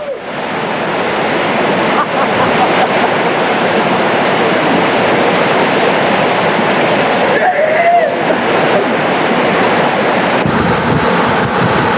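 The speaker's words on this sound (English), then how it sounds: "A must-stop for canoeists is Smith Falls, the highest falls in Nebraska." Smith Falls, the highest waterfall in Nebraska, on the Niobrara River: a loud, steady rush of falling water that fills the whole scene, with a brief faint voice-like tone partway through.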